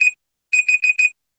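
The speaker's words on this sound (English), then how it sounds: "No, that's my don't forget to bid on this book alarm." A phone reminder alarm sounds as a loud, shrill electronic beep, followed after a short pause by four quick repeated beeps, heard alone.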